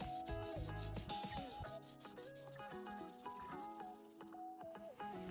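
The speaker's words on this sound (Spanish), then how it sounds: "lijamos con cuidado ambas caras de la placa para eliminar el exceso de producto." Both faces of a homemade circuit board being sanded by hand to strip off excess dried ink, producing close, quiet rubbing strokes in an uneven rhythm, with no talking.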